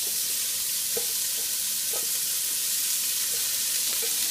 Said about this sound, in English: we're just going to throw the carrots and celery and onion right in